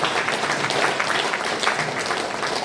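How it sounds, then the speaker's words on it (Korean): Welcoming applause offered to God at a Korean thanksgiving worship service and Bible seminar, a dense, steady wash of many hands clapping together at even loudness, filling the whole moment with no talk over it. "크게 환영의 박수를 하나님께 올려주시기 바랍니다"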